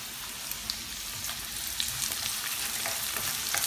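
Garlic and onion sauté in hot oil for chicken caldereta, a dense, steady crackling sizzle close to the pan with occasional light stirring clicks, continuous and free of voices.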